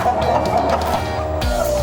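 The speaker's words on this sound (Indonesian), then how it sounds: "Sambil memberi pakan ayam, yuk kita tanya-tanya lagi sama Pak Ali bagaimana Tata cara yang baik memelihara ayam kampung unggul ini" Free-range village chickens cluck and chatter steadily at feeding time, a dense continuous flock sound close by, with no talk over it.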